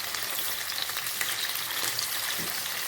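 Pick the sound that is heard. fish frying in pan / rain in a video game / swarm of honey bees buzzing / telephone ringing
fish frying in pan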